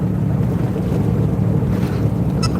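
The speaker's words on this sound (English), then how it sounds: "Very windy." Strong wind roars steadily through woodland in Ohio, a dense, unbroken rush with low rumbling buffets against the microphone and no voices.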